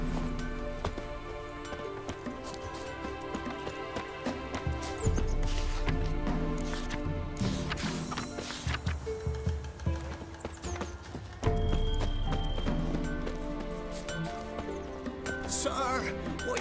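Hoofbeats of the horse Roach in The Witcher 3 video game, a steady clip-clop trotting rhythm with game ambience and a brief whinny-like note, heavy thuds swelling twice, a voice speaking faintly underneath.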